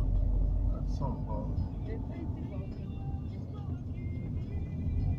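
A truck passes along a road in a town in Rio Grande do Norte, a steady low rumble of engine and tyres swelling slightly at the start and end, with people talking over it.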